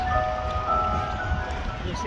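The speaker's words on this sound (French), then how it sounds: "Un marchand de glace, ça fait longtemps que j'en ai pas vu" A faint ice cream van chime drifts in from nearby, its sustained melody tones sitting over a murmur of street ambience and low background voices.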